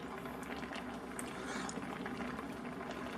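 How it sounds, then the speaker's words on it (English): Creamy Tuscan chicken pasta sauce with bacon simmering in a pan, a soft continuous bubbling and popping texture, close but quiet, with no voices over it. "now that I've had it simmering a while"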